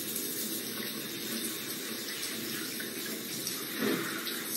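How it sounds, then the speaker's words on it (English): Water runs steadily from a shower, a constant hiss of spray close by, with a brief louder splash near the end and no talk. "Okay, time to jump into the shower."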